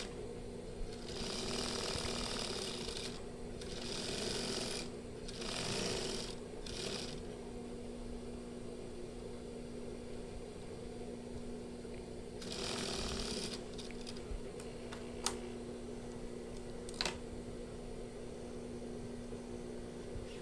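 A sewing machine stitches the collar of a lined batik shirt in short bursts, with a longer run near the start and another midway, separated by quiet pauses and a few small clicks, no voices.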